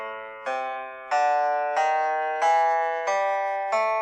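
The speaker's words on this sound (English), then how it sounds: "the A blues scale." An A blues scale picked on guitar: seven distinct notes in a steady ascending sequence, each ringing clearly before the next, with no talking.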